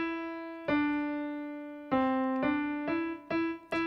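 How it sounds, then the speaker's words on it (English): Piano picking out the opening notes of Mary Had a Little Lamb, a slow run of single sustained tones, each struck clearly and ringing out alone, close and moderately loud. "So Mary Had a Little Lamb sounds like this at the beginning."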